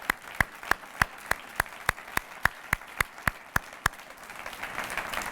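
Audience applause at a conference comes through as a fairly faint run of evenly spaced, rhythmic claps that fade into a softer wash of clapping toward the end.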